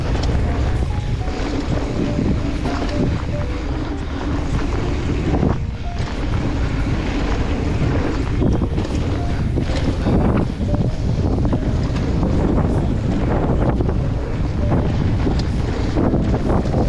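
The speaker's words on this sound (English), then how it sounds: "That headwind." Strong headwind buffets the microphone during a mountain bike ride on open trail in Rotorua, a continuous loud roar of wind noise with no speech.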